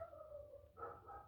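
Neighbors' dogs barking next door, a tonal bark or howl that holds for a moment, breaks, then sounds again, heard alone at a moderate distance in a quiet room.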